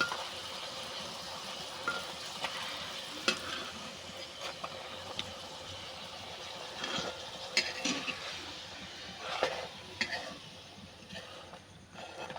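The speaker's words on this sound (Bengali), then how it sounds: "এটা ভাজতে চলে এসেছি" Food frying in oil for a breakfast dish, a steady close sizzle with scattered sharp crackles and pops throughout, no voices.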